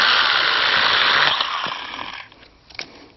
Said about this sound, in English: So if you needed to quickly go through and cut up some branches,